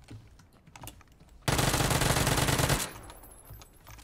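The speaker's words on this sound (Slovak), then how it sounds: "už počujem streľbu" Automatic gunfire in a Battlegrounds video game match, a loud sustained burst of rapid shots lasting over a second, standing out sharply against quieter game background sounds.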